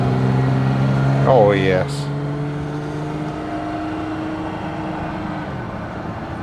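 A Fiat 130 engine drones steadily as the car accelerates on the road, a continuous mid-pitched hum heard from inside the cabin beneath a man's brief spoken remark.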